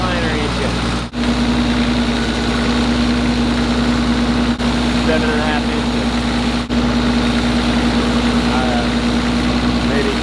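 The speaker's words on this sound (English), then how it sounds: "That's like a Freightliner engine." Close and loud, a Cummins diesel engine idles with a steady, deep drone and an even hum, running unbroken while people talk nearby.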